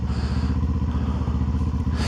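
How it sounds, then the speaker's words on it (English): The engine of a Kawasaki Ninja 7 HEV hybrid motorcycle running after starting, a close, steady, loud rhythmic idle throb with even low pulses throughout and no talk. "We hold down, and the engine fires up."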